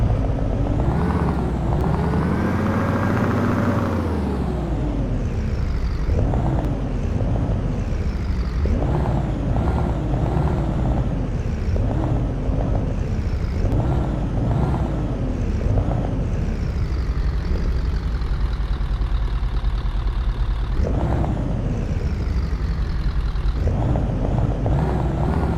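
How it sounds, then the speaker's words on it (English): A Scania truck's engine idles as it warms up in Euro Truck Simulator 2. It gives a steady, loud diesel rumble whose pitch rises and falls with revs, with no talking over it. "let's just warm this truck up"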